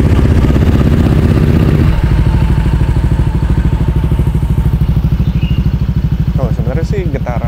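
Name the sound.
warmed-up Honda Vario 160 scooter engine idling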